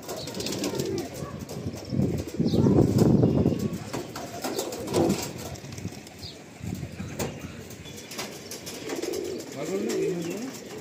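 Kalasabuj pigeons, a big-size old-bloodline breed, coo softly inside a loft, with bursts of wing flapping and shuffling mixed in throughout at moderate, close range.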